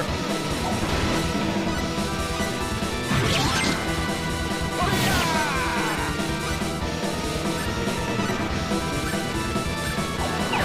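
Sword Bomber attack in Star Ocean 2 on the PS1, a dense, loud barrage of crashing impacts and bursts that repeats over several seconds without a break.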